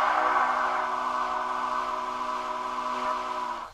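A Southern Pacific GS-4 steam locomotive in Train Simulator 2017 sounds a long chime whistle, a sustained multi-note blast held loud and steady for several seconds before cutting off abruptly.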